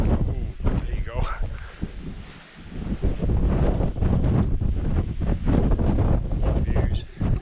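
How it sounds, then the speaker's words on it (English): Gusty night wind in the Scottish Northwest Highlands buffets the microphone in uneven surges and lulls, a rough blustery roar rising and falling, with some voices faintly mixed in. "It's a bit breezy now, but it's the gusts, you just can't predict them at all."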